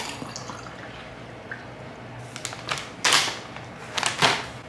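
Shower water running and splashing, with irregular bursts of spray and drips close by, louder toward the end.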